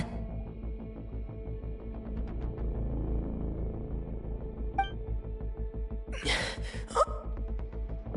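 A Genshin Impact character gasps for breath over a low rhythmic thumping rumble, with one sharp gasping intake standing out near the end and a faint clink just before it.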